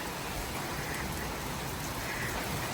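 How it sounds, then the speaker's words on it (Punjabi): Steady monsoon-season rain falls outdoors in America, a dense, even hiss of drops on surfaces that stays constant throughout with no voices. "ਦੇਖੋ ਸੌਣ ਦੀ ਝੜੀ ਲੱਗ ਗਈ ਹੈ"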